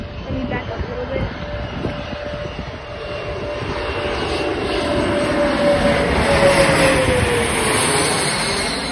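A Mitsubishi CRJ-200LR regional jet operated by Air Wisconsin as American Eagle passes at O'Hare, its engine roar swelling from a broad rumble to a louder whining pass, with a steady tone sweeping downward as it goes by.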